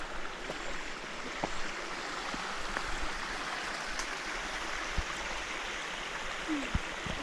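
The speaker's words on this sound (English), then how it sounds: "Nogal baie water wat hier afloop." Strong flow of water running down a mountainside on a climbing route, a steady, moderately distant rush with occasional faint knocks and no talk.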